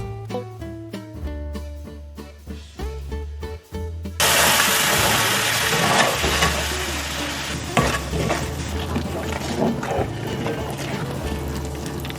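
Non-dairy milk being stirred into a macaroni and cheese sauce with onions in a pan: a loud, continuous sizzle and scraping stir that fills the clip after some early tonal sound, with no one talking.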